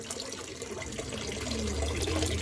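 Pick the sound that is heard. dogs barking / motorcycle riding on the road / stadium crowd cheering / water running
water running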